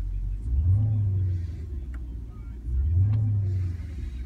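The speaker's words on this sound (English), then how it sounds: "You have your performance exhaust." A 2012 Porsche Panamera with performance exhaust revving twice, each rise a loud, deep swelling roar that falls back to a steady idle, heard close and without talk.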